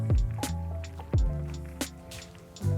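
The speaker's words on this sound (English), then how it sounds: "and then drop the flesh in a container." Soft, wet squishing thuds as pieces of boiled potato flesh drop into a container one after another, close and fairly quiet, with faint clinks between the drops.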